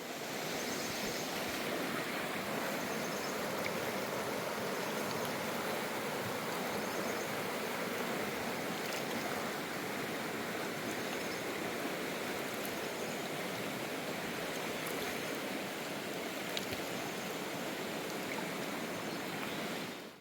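A stream flowing down from the Sahyadri mountains in the Konkan, a steady broadband rush of water that stays close and even throughout, with no voices.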